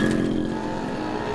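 A motorcycle engine drones steadily as the bike pulls away, a brief, fairly close rumble with no voices.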